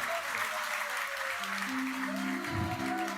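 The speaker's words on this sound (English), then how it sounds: "let's give a huge round of applause" A crowd at a Talmud siyum celebration gives a sustained round of applause, a steady dense clapping that carries over low music tones throughout.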